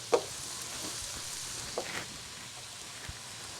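Ginger dropped into hot oil in a pan on high heat, producing a thin, steady sizzle with a few faint clicks and taps of a utensil, fairly quiet throughout.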